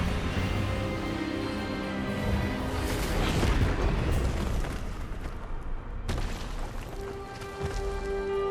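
Expelliarmus spell blast in the Hogwarts Legacy video game, a dense roaring burst swelling over a thick layer of game music and effects, loud and sustained, ending with a sharp cutoff before a tonal hum.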